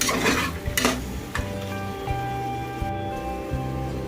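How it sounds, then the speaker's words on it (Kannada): Field beans (avarekalu) with soya chunks stirred and fried in a pan, a steady close sizzle with repeated scraping stirs, a few louder scrapes near the start and then continuous crackling throughout. "ಆಮೇಲೆ ಅವರೆಕಾಳು ಚೆನ್ನಾಗಿ ಹುರ್ಕೊಳ್ಳಿ."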